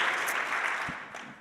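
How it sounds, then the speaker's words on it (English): An audience at a computer science education conference claps in a brief, dense burst of applause, steady and fairly close, fading slightly at the end. "give them a round of applause"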